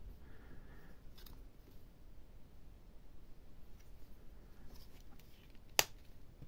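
The blade of a Joker Cocker NC 47 folding hunting knife, a back-lock design with a stiff spring, snaps into place with a single crisp, close click near the end of an otherwise quiet stretch.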